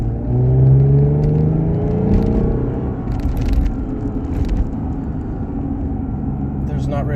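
A 2011 Lexus IS350 AWD with an aftermarket exhaust drones and rumbles while driving, heard from inside with the windows up, rising in pitch under acceleration then settling to a steady low cruise hum.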